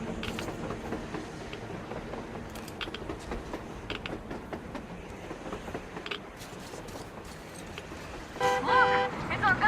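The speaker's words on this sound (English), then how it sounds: "A train! A damn train on the surface!" A train rumbles across the surface in the video game Metro Exodus, a continuous rolling clatter with excited voices over it, ending in a louder horn-like toot near the end.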